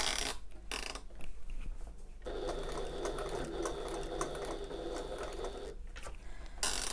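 A sewing machine stitches an open-top tote bag, running in a steady continuous whir for several seconds between short pauses at a pivot point, close and fairly loud with no talk.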